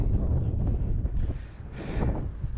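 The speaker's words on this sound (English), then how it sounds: "Bit windy." Strong gusting wind buffets the microphone on a mountain in the Scafell group, a loud, continuous low roar and rumble with no voices.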